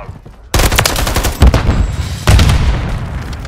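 Gunfire in the video game Call of Duty MWIII: loud, dense bursts of rapid shots that start abruptly and run almost continuously, with heavier cracks and booms punching through at intervals.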